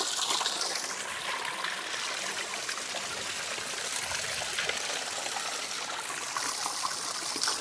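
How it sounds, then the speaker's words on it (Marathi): Spring water runs from a cow-mouth (gomukh) spout at an old temple, a continuous bright rushing and trickling stream, steady and close, with no speech. "गोमातेच्या मुखातून पाण्याचा झरा वाहत आहे"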